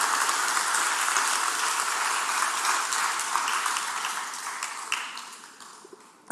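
A church congregation applauds during a sermon, a dense, steady wash of many hands clapping that fades toward the end.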